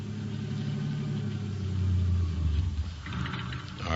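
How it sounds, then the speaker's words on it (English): A car engine idles in a radio drama, a steady low rumble close by with a brief swell of revving midway, then a faint rattle near the end, with no voices. "All right, now turn off the engine."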